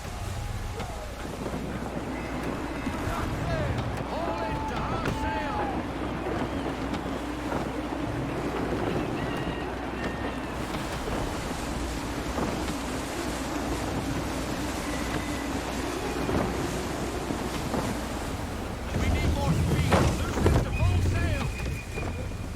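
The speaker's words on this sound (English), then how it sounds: "Gusty winds can be difficult to manage." Steady wind and rushing water surround a sailing ship at sea in Assassin's Creed III, a continuous broad roar with creaks throughout and a louder surge near the end, voices speaking faintly underneath.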